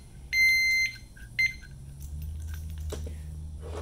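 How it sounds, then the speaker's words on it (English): Two bursts of high-pitched electronic beeping from an Oxford Alpha XA14 alarmed brake disc lock arming into alarm mode, the first longer and the second short, followed by a low hum and some rustling and clicks. "Let's wait for that beep. This tells you that it's going into alarm mode"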